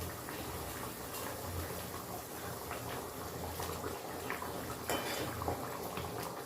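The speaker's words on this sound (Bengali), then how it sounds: "এবার আমি এক এক করে মাছগুলো ছেড়ে দিচ্ছি।" Rohu fish pieces slide one by one into a pot of simmering kalia gravy, giving a steady bubbling, sizzling wash with a few louder splashy bursts, close and continuous with no talk.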